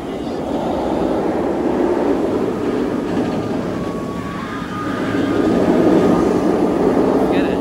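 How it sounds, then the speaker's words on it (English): Kumba, a B&M sit-down looping roller coaster, running its lift hill outdoors at a theme park, a continuous loud mechanical rumble and rattle that swells slightly toward the end. "I hear the lift hill, therefore the ride is indeed operating."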